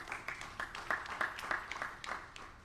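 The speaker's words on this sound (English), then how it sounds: "that's worth a round of applause" Audience clapping in a round of applause at a ribbon cutting for a new health center in a shopping mall, dense and steady throughout, moderately loud and fairly close.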